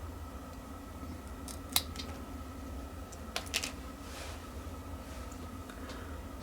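Scissors snip through a PTM7950 thermal pad sheet, cutting it to size for a Steam Deck OLED: a few sharp, quiet clicks and snips, well spaced over a steady low hum, with no talking.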